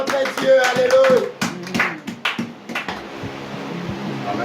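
Church congregation clapping and cheering in praise, a run of scattered handclaps and bright voices, fairly close, mixed with speech and a sustained background hum.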